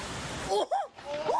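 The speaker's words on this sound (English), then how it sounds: "The hail is crazy." Hail and rain coming down hard outdoors, a dense, steady wash of hissing noise with a voice briefly calling out over it.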